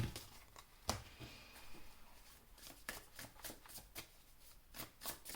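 Tarot cards being shuffled for a reading give soft, close riffling bursts and light patters at an irregular rhythm, quiet and with no voices.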